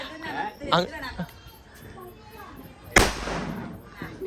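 A single loud firecracker bang goes off during a family Vishu celebration, sharp and close, with excited talk and children's voices before and after it.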